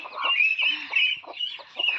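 A mother hen clucks among her seven chicks, with repeated low clucks and a bright, dense chorus of high peeping close by and fairly loud.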